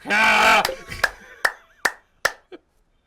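A person makes a brief drawn-out vocal sound, then four separate sharp hand claps spaced roughly evenly, ending with a small softer tap, close and clear.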